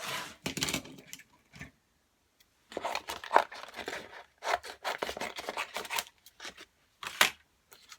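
Scissors snip through a piece of card in several short bursts of crisp cutting and rustling, close by, with pauses between strokes and no talk.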